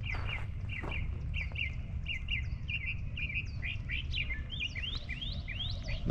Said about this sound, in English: The birds are waking up. They're going crazy right now.